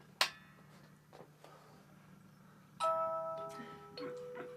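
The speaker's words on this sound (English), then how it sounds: "You press the front doorbell." A sharp click, then a sustained multi-tone electronic chime rings out and changes pitch partway, fairly close and clear against a quiet room.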